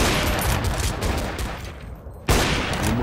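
Gunfire in the video game Counter-Strike: Source, a burst of rapid shots followed by a brief lull and then another sharp report, loud and close, with game sounds around it.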